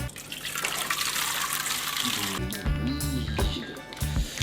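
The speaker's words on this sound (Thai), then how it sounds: "ทีนี้เราก็เท น้ำทิ้ง" Hot water is poured off instant noodles into a sink, a steady gushing splash that keeps going and then turns to choppier sloshing and trickling near the end, loud and close.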